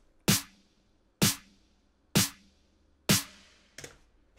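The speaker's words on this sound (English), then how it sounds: "a real loud reverb 808 clack" A loud 808 clack drum sample with heavy reverb, produced in FL Studio for an EDM track, strikes four times at an even pace, each hit sharp and bright with a long washing tail, followed by a softer fifth hit.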